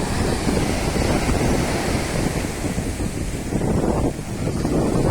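Waves from the Bay of Bengal crash on the shore one after another, a dense, loud, continuous roar mixed with heavy wind buffeting close to the microphone.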